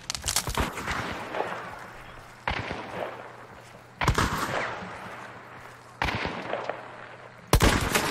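Gunfire in the video game Hunt: Showdown: a series of loud, sharp shots and short bursts arrive every second or two, each with a long fading echo, under faint voices.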